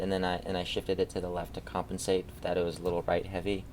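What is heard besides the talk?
None of the usual background noises is heard.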